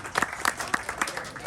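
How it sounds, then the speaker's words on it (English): A small audience at an Independence Day celebration gives a round of applause for two young presenters, with scattered, rhythmic claps close by and a faint crowd murmur beneath. "we should give them a round of applause again"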